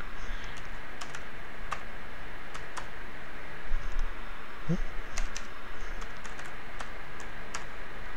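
Quiet, steady clicking of keys on a computer keyboard in bursts over a soft background hum, with no talking.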